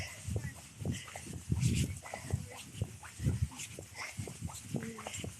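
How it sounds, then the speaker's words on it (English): Several dogs in a park, including long-haired greyhounds, make scattered barks, whines and snuffles at varying distances while a person talks in the background. "Whole bunch of doggies, including some I haven't seen before."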